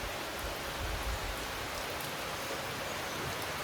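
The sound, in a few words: rain falling outdoors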